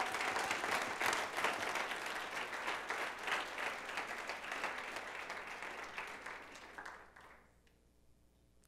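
A church congregation claps and cheers in praise, a dense, lively burst of applause that gradually thins and fades over several seconds, ending in near quiet.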